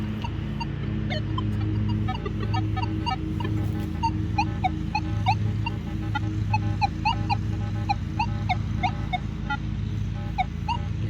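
Irregular short electronic beeps and chirps from a metal detector over iron-laden ground, repeating over a steady low hum, close and fairly loud, with no talking.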